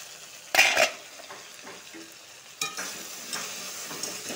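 Okra (bhindi) fries in a pan and is stirred, with a low oily sizzle and two sharper bursts of scraping as the spoon moves through the pan, nearby.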